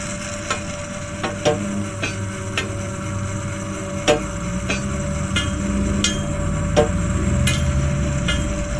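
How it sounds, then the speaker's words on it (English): Sharp metallic taps ring out one at a time at irregular intervals in a sheet metal worker game, a hammer striking thin duct strips over a steady low hum. "Grab the hammer from the workbench and hit the overhanging strips of metal until they're flush with the other part"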